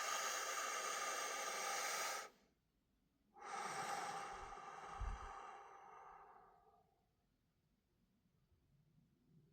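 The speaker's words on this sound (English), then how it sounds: "let's take another deep breath" A deep breath is drawn in, followed after a short pause by a long, slow exhale that fades away, close and fairly quiet, with no talking.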